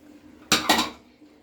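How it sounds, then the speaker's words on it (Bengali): A pressure cooker opened after cooking dal, with two sharp metallic clatters of lid and pot in quick succession, close and loud, then ringing out briefly. "পুরো প্রেশার কুকারটা গরম থাকছে আমি খুলে নিয়েছি"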